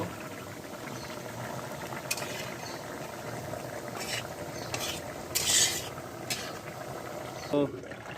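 Pangas fish with pumpkin simmering in a pot, a soft continuous bubbling with occasional utensil scrapes and clinks, fairly quiet and steady throughout.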